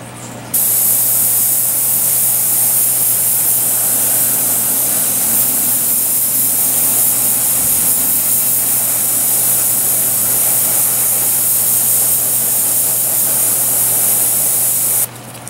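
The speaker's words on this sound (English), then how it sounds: "come back and spray these guys" An airbrush sprays white paint onto a tabletop fantasy miniature, a loud, steady, close hiss of compressed air that starts suddenly and holds unbroken for about fifteen seconds before stopping.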